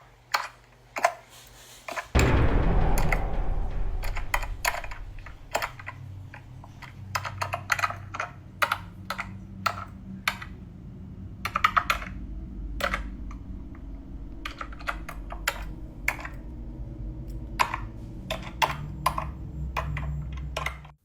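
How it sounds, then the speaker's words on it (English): Steady, deliberate typing on a computer keyboard fills a dark, silent room, a long run of rhythmic mechanical key clicks over a low background hum, with occasional faster bursts of keystrokes. "the unmistakable sound of someone typing on a keyboard, steady and deliberate, in a completely dark and otherwise silent room"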